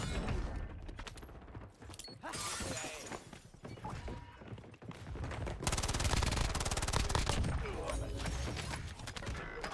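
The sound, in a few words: gunfire in Warzone video game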